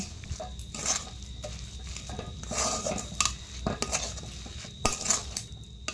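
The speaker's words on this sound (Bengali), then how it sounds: "এইভাবে সমানে নাড়তে থাকবো, না হলে কড়াইয়ের নিচে লেগে যেতে পারে" Grated coconut and milk powder are stirred in a wok for sugar coconut naru, with close scraping and clinking of a spoon against metal coming in irregular bursts and no speech.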